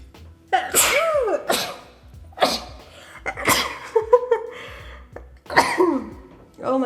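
A girl sneezes several times in a row, each sharp, loud burst preceded by a quick gasping intake and followed by short vocal sounds, close to the microphone.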